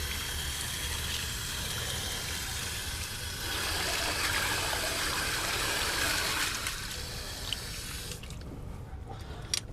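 Water rushes steadily through an opened garden sprinkler valve as it is flushed clear of debris during a repair, a continuous hissing splashing flow that thins toward the end.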